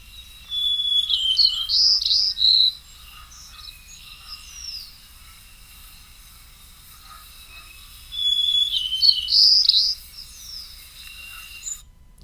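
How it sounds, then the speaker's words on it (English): White-crowned sparrow songs from an eastern population, two clear whistled phrases with trills, the first around one to three seconds and the second near eight to ten, set apart by quiet. "You can clearly see there's variation in these white-crowned sparrow songs, but let's play some of it."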